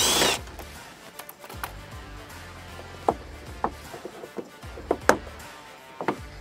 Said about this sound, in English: There's a few clips and you're gonna hear them pop or disengage as you go around.